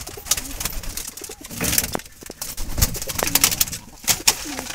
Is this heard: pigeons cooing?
yes